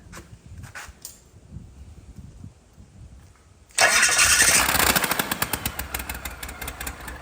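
A Cummins 12-valve 6BT diesel engine found in a garage cranks with a few faint turns, then suddenly fires and roars to life, running loud and rough with a rhythmic, pulsing idle.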